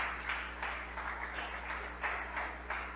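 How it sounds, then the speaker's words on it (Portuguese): A church congregation claps along rhythmically in steady beats, fairly distant and soft, with no talking over it. "Se assenta aplaudindo Jesus"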